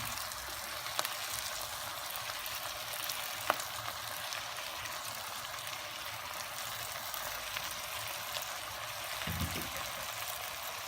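Artichokes and fennel fry in a pan alongside a veal chop and seasonal vegetables, making a constant soft sizzle and crackle with a few sharper pops near the end.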